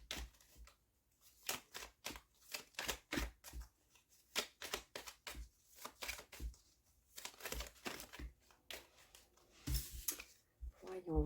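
Oracle cards from the Jeu des Rêves Enchantés deck are shuffled and drawn close up, producing rapid papery riffles, slaps and crinkles in uneven bursts with only brief pauses.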